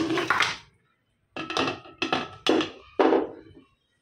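Heavy, wet thuds and clatter, as chunks of mutton drop into a metal pressure cooker one after another, close and fairly loud, with no talking.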